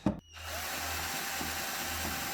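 A power drill drives screws into the black die-cast metal feet of a Hisense U7NQ Mini LED TV, starting with a brief knock and then whirring steadily and loudly, close up, with no talk.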